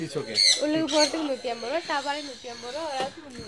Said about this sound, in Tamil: ஃபீடிங் பேர்ட்ஸ் சாப்பாடு கொடுக்கலாம்